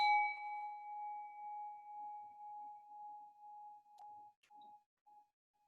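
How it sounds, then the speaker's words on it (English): A meditation bell is struck once and rings with a pure sustained tone. It fades slowly over several seconds into near silence, with a faint touch or tap near the end. "listen to the sound of the bell from the beginning and follow it all the way to the end"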